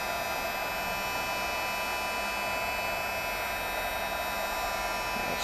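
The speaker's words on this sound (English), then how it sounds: "as your heat tool heats up a little bit more" Heat embossing tool blowing steadily while embossing a poster board Christmas tag: a constant, fairly quiet whooshing hiss with an electric hum, unbroken and unchanging, no voices.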